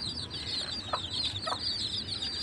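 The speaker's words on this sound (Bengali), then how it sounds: "এখানে কিছু মুরগির বাচ্চা আছে, দেশি মুরগি দিয়ে এনে ফার্মে মুরগি বাচ্চা ফুটিয়েছি।" Young chicks hatched from local desi hens on a farm peep in a busy, high-pitched chorus, with a couple of low clucks from a nearby hen.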